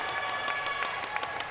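A largely Australian crowd at a masters basketball game between the USA and Australia applauds steadily, a dense, moderately loud wash of clapping from the stands with no break.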